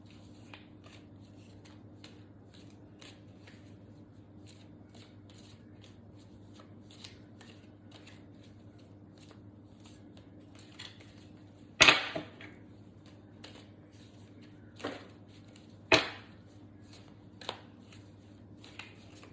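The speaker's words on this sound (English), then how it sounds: "I'm gonna pull a couple more cards." Tarot cards shuffled and pulled, soft faint riffling under a low steady hum, then a few sharp card snaps and slaps near the end.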